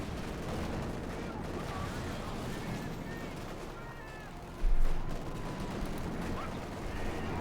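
Fire from a .50 cal machine gun in the video game Company of Heroes 2 crackles in dense, continuous bursts within a busy battle din, with a heavier thump about two-thirds of the way through.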